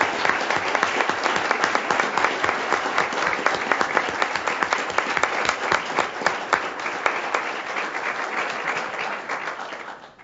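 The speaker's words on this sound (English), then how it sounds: "Let's give him a round of applause." Steady applause from the audience at a school board meeting, many hands clapping densely and loudly for about ten seconds before tapering off at the end.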